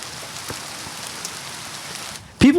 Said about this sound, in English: Listen to this rain right here.